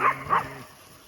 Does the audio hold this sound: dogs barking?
yes